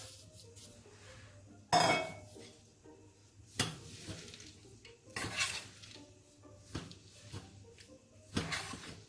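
A utensil stirs melted chocolate mixed with peanuts and cranberries in a bowl, giving intermittent clinks and scrapes against the bowl separated by quiet pauses, close by.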